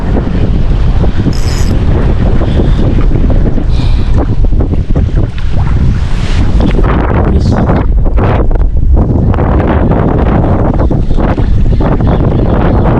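Strong wind buffets the microphone in a steady roar while fishing from a boat at sea, with water and boat noise underneath and no voices.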